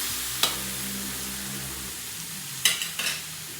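Squid sautéing in a pan for adobo, a low steady sizzle with a few sharp stirring clatters of a utensil against the pan, close and alone with no voices.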